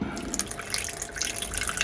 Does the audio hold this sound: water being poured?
yes